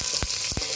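Chicken pieces and chopped coconut sauté in a hot pan, a close, steady sizzle broken by two quick stirring scrapes.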